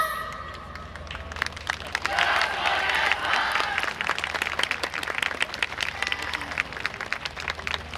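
At a YOSAKOI Soran festival stage, an outdoor crowd applauds and then settles into steady rhythmic clapping along with a dance team's performance, a continuous patter of many hands under a low crowd murmur.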